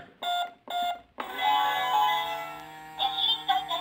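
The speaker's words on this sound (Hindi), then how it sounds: "ये ऑटोमेटिकली डोर इसका ओपन होता है, आपको आवाज़ आई होगी।" Electronic beeps and a whirring motor from a battery-powered toy smart ATM mini bank as its door opens automatically: two short beep bursts, then a sustained buzzing mechanical whine, close and moderately loud.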